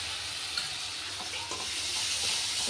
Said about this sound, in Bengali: তো পেঁয়াজটা ভাজা হয়ে গেছে, এই যে আদা রসুন বাটাটা দিয়ে দিলাম।